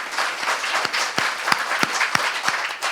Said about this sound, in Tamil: நாம் எல்லாம் ஒரு அரங்கு நிறைந்த பாராட்டு